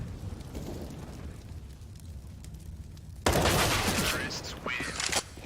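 Counter-Strike gunfire on the Mirage map, ending in a headshot during a BIG versus Heroic DreamHack match: a sudden loud burst of shots cuts in midway over a low ambient hum, with sharp cracks continuing to the end.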